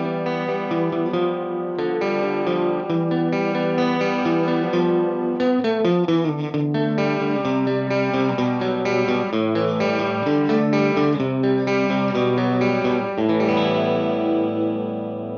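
Distorted, chorus-washed instrumental chords ring out continuously through the Valhalla Supermassive delay and reverb plugin, each note trailing into echoing repeats and a spacious reverb tail.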